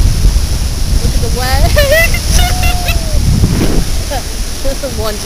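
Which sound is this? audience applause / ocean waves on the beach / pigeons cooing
ocean waves on the beach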